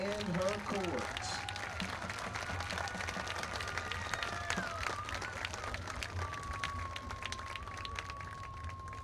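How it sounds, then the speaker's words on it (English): Crowd applause at a high school football homecoming game, a faint, scattered spread of clapping from distant bleachers, with outdoor stadium ambience, whistle-like tones and voices mixed in. "a round of applause for the Shelbyville homecoming queen and her courts"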